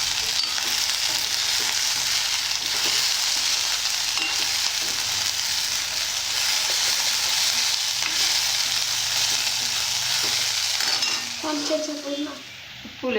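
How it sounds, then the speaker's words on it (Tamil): Onion sautéing in a pan for idli upma, a steady close sizzle and crackle of frying with occasional stirring scrapes and a few utensil clinks near the end. "அதே சமயத்தில் இங்கே நல்லா உள்ளி வதங்கிட்டு இருக்கு."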